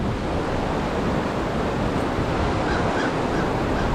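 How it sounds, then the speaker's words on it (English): Cucumber Run creek pouring into the high river at Ohiopyle in February: a loud, constant broadband rush of flowing water, steady throughout with no talking. "Cucumber Run is just pouring water in here"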